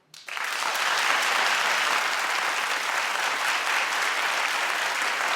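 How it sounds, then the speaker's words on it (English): Sudden burst of broad audience clapping that swells within a fraction of a second and then holds steady and loud until the end. "clap if this is not a big deal to you."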